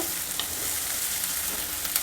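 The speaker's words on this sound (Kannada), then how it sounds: "ಈಗ ಬಟಾಣಿನ ಸಾಕಷ್ಟು ಎಣ್ಣೆಯಲ್ಲಿ ಫ್ರೈ ಮಾಡಿದ್ದೀನಿ ಒಗ್ಗರಣೆಯಲ್ಲಿ" Fresh green peas fry in oil as part of a tempering, giving a steady close sizzle with a few light stirring scrapes throughout.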